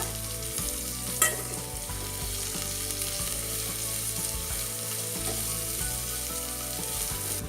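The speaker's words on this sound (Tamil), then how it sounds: "இப்போ நம்ம சின்ன வெங்காயம் சேர்த்துக்கலாம். 10 சின்ன வெங்காயம் பொடி பொடியாக அரிஞ்சு சேர்த்துக்கலாம்" Chopped small onions fry in hot oil after popped mustard seeds, with dried red chillies, garlic and curry leaves nearby, giving a steady close sizzle under faint stirring scrapes and one sharp clink early on.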